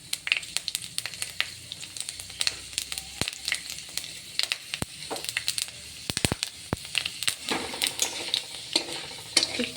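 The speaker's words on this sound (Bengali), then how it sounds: "তারপর তেলের মধ্যে শুকনো লঙ্কা একটু ভেজে, তারপর পাঁচফোড়ন" Dried chilies and panch phoron fry in hot oil, giving a steady crackling sizzle broken by frequent sharp scrapes and clinks of a spoon stirring in the pan, close up and with no talking.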